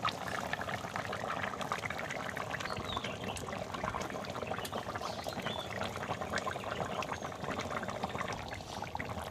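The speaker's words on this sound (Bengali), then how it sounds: "এবার আমি জল দিয়ে দিচ্ছি" Water poured into a simmering fish and taro curry in a pan, a steady soft pouring and bubbling hiss, close and continuous, no voices.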